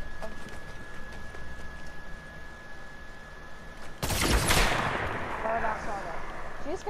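A single sharp sniper shot cracks out loudly in a Fortnite match, followed by a rolling echo that dies away over a couple of seconds, with game sounds and players talking underneath.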